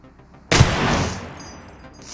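A single loud Desert Eagle pistol shot rings out in a video game. The sharp blast trails off into a lingering echo.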